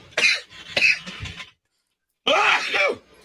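A sudden sneeze bursts out nearby during a hockey fan talk show, followed by a pause and then a second loud, harsh expulsive sound, close to the listener.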